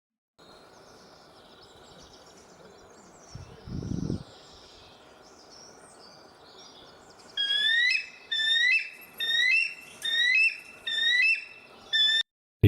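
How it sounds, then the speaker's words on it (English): Seagull-like calls in the video game Enemy Zero: six loud, evenly spaced bursts of high, rising cries repeating about once a second near the end, after a quiet hum and a brief low thump. "They do indeed sound like seagulls."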